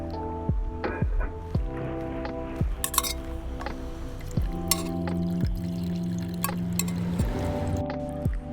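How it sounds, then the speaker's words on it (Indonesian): Boiled green betel leaf water strained through a strainer, with a stream of liquid pouring and dripping, repeated clinks of metal against a vessel and soft squishing as the leaves are pressed, fairly close. "Kemudian kita saring rebusan air daun sirih dengan alat penyaring."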